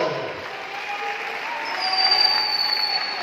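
Audience at a rally clapping together, a dense, steady wash of applause that swells slightly toward the end, with crowd noise and some voices mixed underneath.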